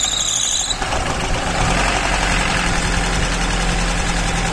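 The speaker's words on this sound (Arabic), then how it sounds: "وهسيب المحرك شغال 10 دقايق" A car engine idling with a steady low rumble and faint whine, close and constant; a brief high squeal at the start fades away.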